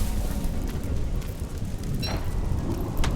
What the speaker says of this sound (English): it's really hard to gather anything when it's raining